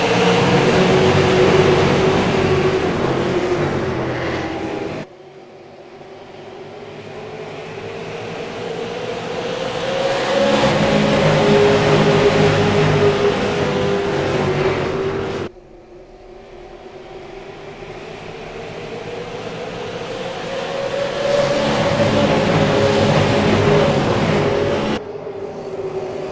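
Race cars in the SARA Button Box Shop Super Series restart on the green flag at Lucas Oil Raceway, engines roaring and climbing in pitch in repeated surges as the pack accelerates past, loud and without voices.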